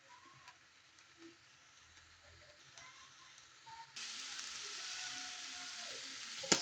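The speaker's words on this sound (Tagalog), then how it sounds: "Tapos ayan, piniprito ko muna yung both side niya" Pork chop seasoned with pepper, garlic and seasoning mix frying in a pan, a faint low sizzle that swells into a louder, steady hiss about two-thirds through, with a small clatter at the end.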